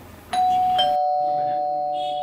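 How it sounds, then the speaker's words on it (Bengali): A doorbell rings loudly and close with two ding tones, the second note ringing out and slowly decaying, followed by faint voices in the room. "সেই কখন থেকে কলিং বেলটা বাজছে"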